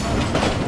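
A train slows as it pulls into Shahdara station in Pakistan, a brief, steady, close rumble of wheels and carriages.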